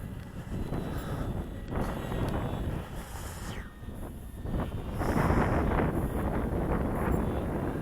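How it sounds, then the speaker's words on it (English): Steady wind buffets the microphone outdoors at an airfield while an FMS 2000 Beaver RC model plane flies, a continuous rushing roar with gusts that swell louder toward the end. "There's a bit of wind"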